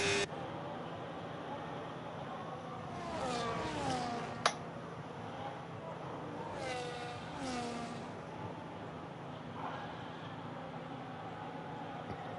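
Ferrari and Williams race cars from the 1970s and 80s battling in a racing video game in Austria, with engines screaming and shifting pitch as they pass close by, one sharp knock, under quiet background talk.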